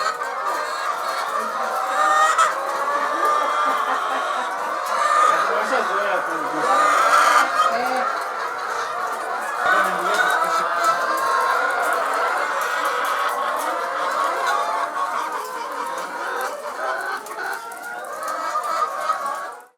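Laying hens crowd a poultry farm house, a dense, continuous chorus of clucking and cackling from many birds close by, loud and steady, with a voice talking faintly in the mix.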